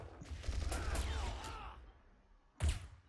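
Vulcan gun fire in the Swamp audio game: a burst of rapid mechanical firing with a whirring, sweeping tail, then a short lull and one more sharp loud blast near the end.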